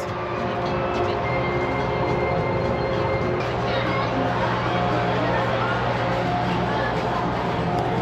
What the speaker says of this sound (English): we're going to catch a tram, save some of these steps